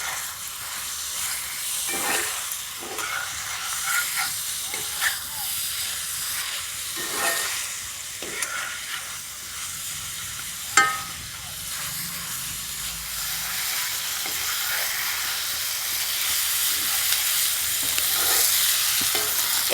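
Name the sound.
ginger-garlic-chilli paste with turmeric and chilli powder sautéing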